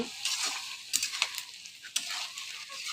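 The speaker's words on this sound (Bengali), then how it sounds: "এই যে আমি আমার তরকারিটা কষাইতেছি।" Eggplant curry with jackfruit seeds sizzles as it is stirred and sautéed in a pan, a steady frying hiss broken by scraping stirs and a few sharper clinks of the spoon.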